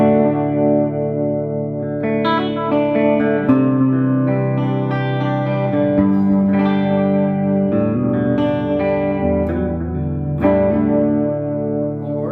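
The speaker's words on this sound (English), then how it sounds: "I use a quarter note delay, and it sounds like this" Electric guitar played through a quarter-note delay, each phrase echoing in time behind the notes, with a sustained, effected tone and no talking.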